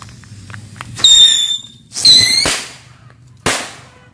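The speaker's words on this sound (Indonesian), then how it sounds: "itu dia petasan air travelnya" A petasan air travel fountain firecracker goes off in short bursts, each launch giving a loud whistling screech followed by sharp cracks, three distinct blasts close by.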